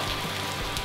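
Steady rain falls outdoors near a pool, a continuous close hiss of drops on surfaces with no voices.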